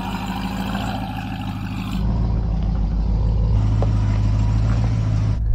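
Hennessey Mammoth truck's 1,026-horsepower engine rumbling steadily at low revs while off-roading down a slope, a close, continuous low drone that swells slightly louder partway through.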